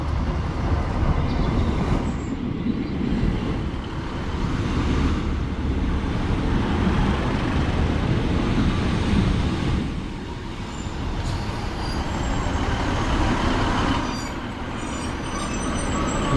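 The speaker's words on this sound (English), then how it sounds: "arriving in now is the 11:31 Northern service from Manchester Piccadilly to Buxton" A Northern diesel multiple unit service from Manchester Piccadilly to Buxton pulls into a station platform on the Buxton line, a steady loud rumble of engine and wheels that fills the whole stretch with faint squeal near the end.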